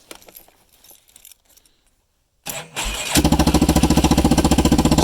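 A 1998 Yamaha Kodiak ATV, abandoned and revived with fresh fuel and a janky solenoid bypass, clicks and rattles quietly before cranking and catching, settling into a loud, close, rapidly pulsing idle from an exhaust ending mid-machine.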